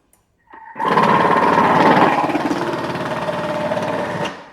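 A Thermomix Cutter attachment grates a thin carrot at speed 4, a loud, steady high-speed whirring and rattling motor drone that starts abruptly after a brief click and runs continuously, tapering slightly toward the end, with no voices.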